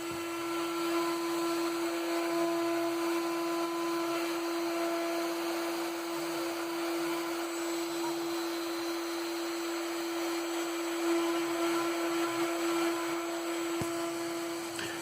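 A CNC router V-carving school logos and names onto wooden Christmas stockings, a steady high spindle whine with a constant tone that runs unbroken and close throughout.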